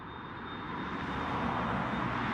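Airbus A330 airliner taxiing at Dublin Airport, a steady broadband jet engine roar that swells slightly louder as it goes on, heard alone without talk.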